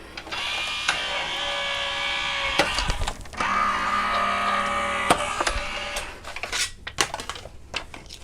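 An electric die cutting machine used for paper crafting runs with a steady mechanical whir and grinding hum, punctuated by sharp clicks and knocks, fairly close and moderately loud.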